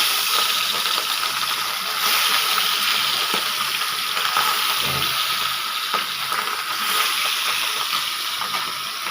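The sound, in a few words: pabda fish frying in hot oil in a wok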